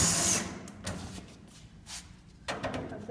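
A power drill removes screws from a unit ventilator cover in short bursts: a whir at the start, then brief buzzes and clicks separated by quiet gaps, fairly close.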